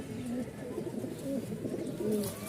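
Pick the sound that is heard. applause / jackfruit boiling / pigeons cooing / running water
pigeons cooing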